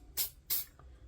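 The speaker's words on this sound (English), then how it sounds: "I'm gonna spray a little bit in the barrel." Two short hissing bursts of cleaner sprayed into the barrel of a PSA Dagger pistol during cleaning, close and crisp with a brief pause between them, followed by a quiet room.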